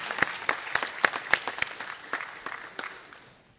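A small group claps in scattered, sharp bursts, the applause thinning out and fading toward the end.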